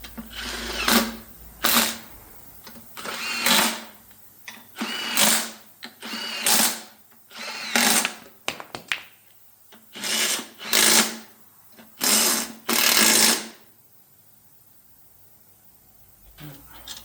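A power tool winds bolts into an aluminium gearbox casing on a Vauxhall F16/F20, a series of about ten short whirring bursts separated by brief pauses, loud and close.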